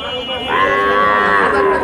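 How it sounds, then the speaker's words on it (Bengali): A heifer calf moos at a cattle market with one loud, close, sustained bellow lasting over a second, alone and clear above faint background noise. "বকনা বাচ্চা"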